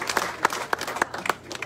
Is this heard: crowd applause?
yes